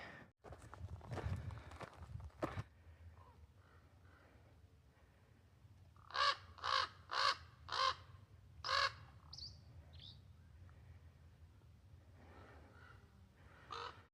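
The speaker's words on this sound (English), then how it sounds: "The raven was making this like water droplet sound in the back of its throat." A raven gives a run of about six hollow, liquid knocking calls from its throat, like water dripping, moderately close after some earlier footsteps on a mountain trail.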